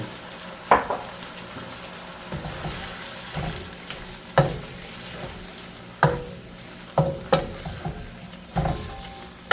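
Thai basil shrimp with scallions and basil stir-frying in a pan, a steady close sizzle broken by sharp clacks and scrapes of a utensil stirring at irregular intervals.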